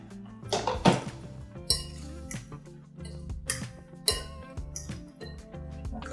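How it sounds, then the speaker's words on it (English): A spoon clinks and scrapes around a bowl while banana blueberry muffin batter with egg whites is stirred, sharp irregular taps against the bowl sides over a steady scraping bed, close and fairly loud. "now give all that a really good stir"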